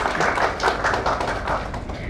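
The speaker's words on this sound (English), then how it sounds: "a nice round of applause" Audience applause at a book launch for a collection of short stories, a steady dense wash of clapping hands filling the hall without pause.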